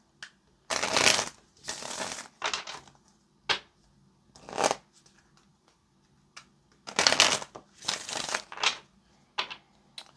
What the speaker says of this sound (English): let's do this last shuffle